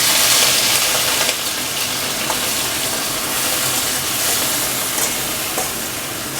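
Large prawns fry in hot oil with a loud, dense, continuous sizzle and crackle that stays steady from start to finish.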